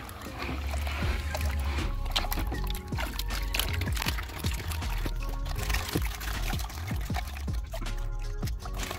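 Water sloshes and pours steadily through a gold pan of dry dirt and quartz-vein ore being washed, with a continuous close wet churning and the scrape of larger rocks.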